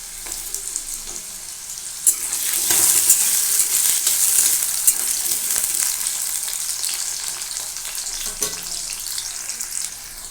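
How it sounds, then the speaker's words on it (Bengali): Two cut potatoes dropped into hot oil set off a loud, bright, continuous sizzle that swells after a couple of seconds and stays steady, with a few utensil knocks. "দেখুন আমার তেল গরম হয়ে গেছে এর মধ্যে আমি দুটো আলু কেটে রেখেছিলাম ধুয়ে ভালো করে দুটো আলু আমি এখানে দিয়ে দিলাম"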